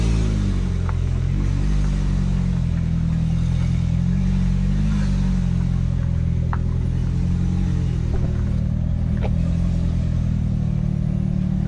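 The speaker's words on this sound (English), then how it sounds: "here now we have the 720S coming out." A McLaren 720S sports car pulling out during a detailing session, a low steady engine rumble close by with a few faint clicks and clatters on top, no talking.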